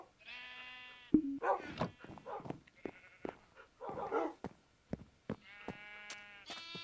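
Blocky cattle in the Minecraft video game give several drawn-out, harmonic moos and bleat-like animal calls, spaced through a quiet farm scene, fairly close and moderately loud.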